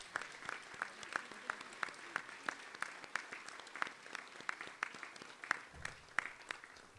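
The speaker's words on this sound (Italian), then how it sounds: "Esprimiamo la nostra gioia per il sì di questi nostri fratelli con un bel applauso." A church congregation at a Corpus Domini Mass applauds in a steady wash of many hands clapping, heard from a distance in the reverberant hall and sustained for several seconds.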